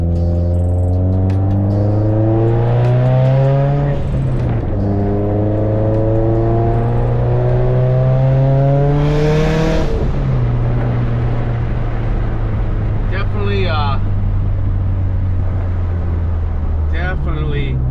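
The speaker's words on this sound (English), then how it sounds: "taking a quick drive after this front strut tower brace" A 2018 Subaru STI fitted with a Tanabe front strut tower brace drives on a test run. The engine drones loudly from inside the cabin, its pitch climbing through the gears with a couple of clear shifts.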